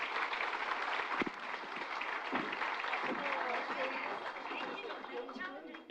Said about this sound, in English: Give my panelists a round of applause, ladies and gentlemen.